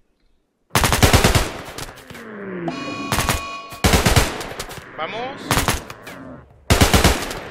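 Gunfire in the video game RimWorld: several loud bursts of rapid automatic shots separated by short pauses, with smaller game effects in between and a brief spoken word.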